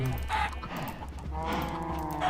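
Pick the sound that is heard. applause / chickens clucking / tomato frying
chickens clucking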